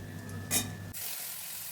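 Spice paste goes into hot oil and tempering spices in a pan for a prawn and taro dish, producing a brief faint hum and a short burst, then a continuous soft, close sizzle with no voices.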